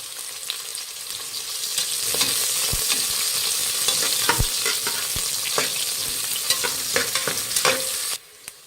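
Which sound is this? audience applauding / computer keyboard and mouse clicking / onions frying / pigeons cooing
onions frying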